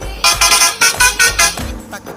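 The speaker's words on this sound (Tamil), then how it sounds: "அதாவது ஃபர்ஸ்ட் ஹாரன் வந்து இதான் கொடுத்துருக்காங்க," The first horn option for a bus in the Bus Simulator Indonesia video game blares in about six loud, rapid, rhythmic honks. Each is a bright, brassy blast, and a lower tone trails off at the end.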